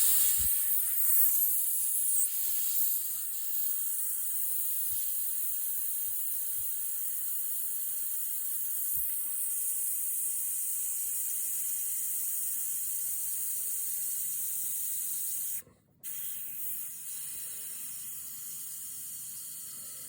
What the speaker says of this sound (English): So just let the air out.